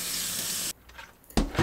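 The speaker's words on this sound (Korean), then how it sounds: "관리가 필요한 스텐 냄비는 스빈또 하나로 설거지해요." Water gushes from a tap, cuts off abruptly, then a few quiet scrubbing and clinking sounds of a stainless steel pot being washed at a sink.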